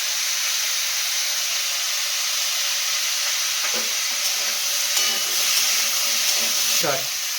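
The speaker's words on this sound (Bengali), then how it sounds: "একটু হালকা লাড়িয়ে লাড়িয়ে ভাজি দেবো এটা।" Potatoes fry in a pan for a Bengali curry, a steady loud hiss and sizzle throughout, with a few scraping stirs toward the end.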